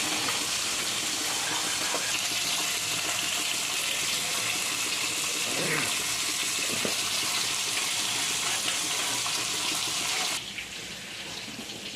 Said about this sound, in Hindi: पानी डालें अब।